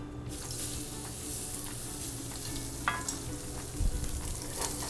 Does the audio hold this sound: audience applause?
no